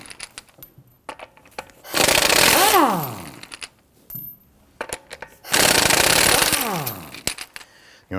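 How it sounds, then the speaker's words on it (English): An impact wrench with a 19mm socket loosens the lug studs on a 2001-2009 Volvo S60 2.5L, firing in two loud, close bursts of rattling hammering that wind down, with quiet clinks and handling noises between them. "we're going to use our 19mm socket to loosen the lug studs"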